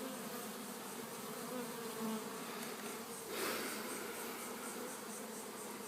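Steady, dense buzzing of bees fills the scene, a continuous insect drone with a brief swell partway through.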